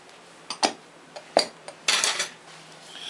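A utensil lightly mashes boiled beans with sugar and salt in a bowl, giving a few quiet, separate clinks and scrapes, then a longer scraping stretch. No one talks.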